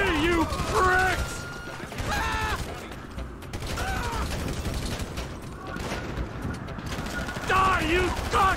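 Video-game gunfire in Grand Theft Auto V crackles in bursts of rapid shots and clatter, running beneath loud shouting voices throughout.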